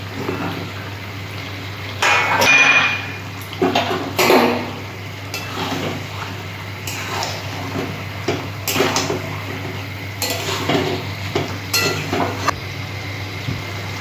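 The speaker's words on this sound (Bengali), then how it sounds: "মাংস কষানো হয়ে গেছে" Mutton with fried potato and papaya being stirred in a pot, with scattered scraping and clinking knocks of a utensil against metal over a steady low hum, no talk.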